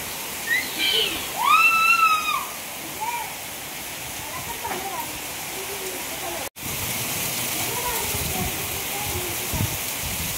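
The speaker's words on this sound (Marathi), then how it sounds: "मोठा पाऊस पडायला लागलाय." Heavy rain pouring steadily outdoors, a dense continuous hiss that holds throughout, with brief children's voices and chatter near the start and a short dropout midway.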